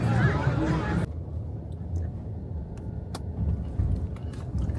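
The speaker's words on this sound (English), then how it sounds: "We are now in the car." Inside a moving car, a low steady road and engine rumble fills the cabin after brief speech at the start, with occasional small clicks and rattles.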